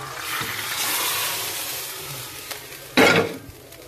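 Pumpkin soup being stirred in a pot after water is added, a bubbling wash of liquid with a light clack of the spoon and a louder splash near the end, close, no talking.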